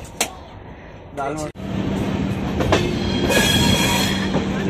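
Mumbai–Delhi Rajdhani Express train pulling into a station, a steady loud rumble of wheels and carriages with a faint squeal, running continuously and building slightly toward the end.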